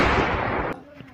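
A gunshot in a Bengali comedy skit: a loud, close, harsh blast that holds for under a second, then cuts off abruptly.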